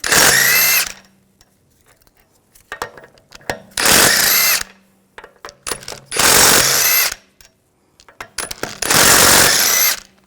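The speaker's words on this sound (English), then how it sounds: "I'm going to remove the wheel, use a 17mm socket, take the lug bolts out" An impact-style power tool working a 17mm socket to remove the wheel lug bolts on a 2006-2010 BMW 550i, four loud bursts separated by pauses with small metallic clinks and handling noises between them.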